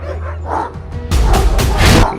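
Stray dogs in a village in Pratapgarh, Uttar Pradesh: loud, close barking and yipping in several overlapping bursts, rising to a denser, louder stretch in the second half, with faint voices underneath.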